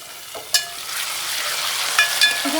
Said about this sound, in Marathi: आल्या लसणाची पेस्ट घेतली डायरेक्टली ती आपण याच्यामध्ये ॲड करूया